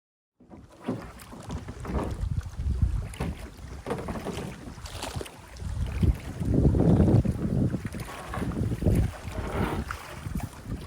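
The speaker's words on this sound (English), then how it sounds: "I'm going to be paddling directly into this wind, it feels like." Wind gusts and choppy water around a small paddled boat on a rough pond in the Adirondack wilderness, with steady buffeting noise that swells and eases, and splashing paddle strokes close to the microphone.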